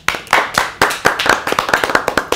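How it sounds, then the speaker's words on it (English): Audience at a Toastmasters session applauding, close, crisp hand claps in a quick uneven patter from a small group, steady without any talking. "Let's applaud Kenyans and Angie."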